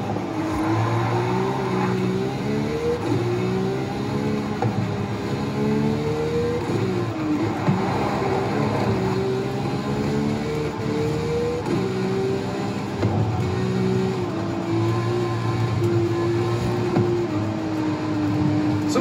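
A car in a driving video game heads for the motorway, its engine droning steadily with shifting pitch as it climbs through the gears, loud and continuous for the whole stretch.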